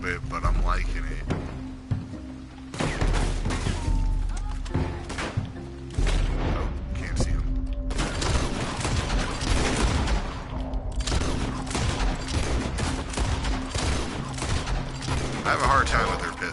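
Repeated shotgun blasts and other gunfire in the video game Red Dead Redemption 2 Online on PS4, loud booming shots in irregular bursts, with a voice talking underneath.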